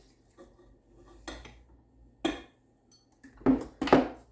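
A utensil clinks and scrapes against a bowl while brandy is mixed into a bread pudding mixture. The knocks and scrapes are brief and scattered, with the loudest ones toward the end.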